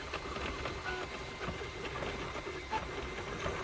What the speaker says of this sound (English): There's so many tiny segments it's printing on this ornament. The drive gear is just going crazy.